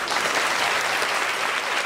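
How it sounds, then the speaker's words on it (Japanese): Audience at a Tokyo International Film Festival stage greeting applauding the Garo cast: dense, steady clapping from a large crowd, loud and continuous with no pauses. "どうぞ大きな拍手を持ってお見送りください"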